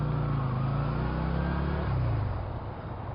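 Motor vehicle engine and road noise while a motorcycle filters through bumper-to-bumper traffic in Japan, a steady close rumble with a slight rise in revs, no talk.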